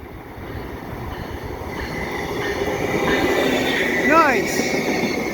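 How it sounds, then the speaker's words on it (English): A Via Rail Siemens SCV-42 Charger train passes at Dorval at night with a steady, building rumble of wheels and a brief squeal near the end, close and loud. "I got a train here at Dorval."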